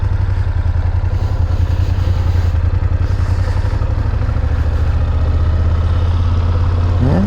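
A BMW F900GSA motorcycle engine runs loud and steady throughout, a deep continuous rumble with rapid pulsing, close to the listener.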